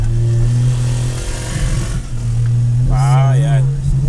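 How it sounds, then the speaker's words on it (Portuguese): A motorcycle passes behind a car on a beachside avenue, its engine droning steadily under the car's own hum, rising briefly as it goes by, while people talk loudly over it. "O moto ali atrás na câmera."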